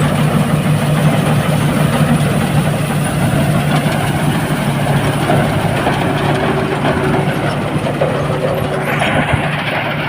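A rice combine harvester's engine runs steadily at close range, a loud continuous drone with rattling machinery and no pauses, alone with no talking.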